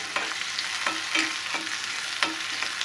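Onions sautéing in oil for a dry shrimp dish, a close steady sizzle punctuated by several quick spoon-scraping stirs in an even rhythm.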